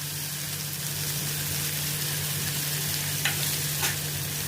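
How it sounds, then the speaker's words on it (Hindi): Finely chopped onions sautéing in a pan for a vegetable sabzi, a steady loud sizzle running throughout with a couple of brief stirring scrapes near the end. "इसमें मैं भी ये फाइन चॉप किया हुआ प्याज डालती हूँ, अनियन डालती हूँ। इसको भी अभी मैं थोड़ा सौटे करती हूँ"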